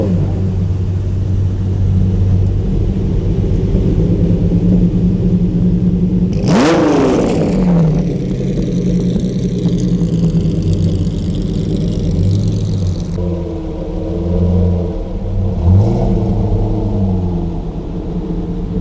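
Several 1980s and 1990s Lamborghini cars rumble at idle on a Sunday morning at the Daikoku parking area, with one engine revving sharply to a loud rising howl before settling back into a steady low drone among the lineup.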